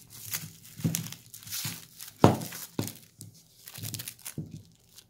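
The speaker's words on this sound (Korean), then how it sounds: "자, 먼저 랩을 뜯어서" Plastic cling wrap torn by hand while making a homemade squishy, giving a series of close crinkling, tearing rips in irregular bursts with short pauses between them.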